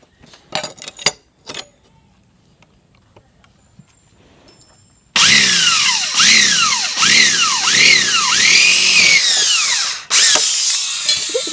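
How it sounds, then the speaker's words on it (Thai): A few sharp knocks, then an electric drill with a 5 mm bit whines loudly, its pitch rising and falling in repeated surges as it bores a hole, stopping briefly before resuming. "ผมจะเจาะรู ใช้สว่านดอกห้ามิลเจาะนะครับ"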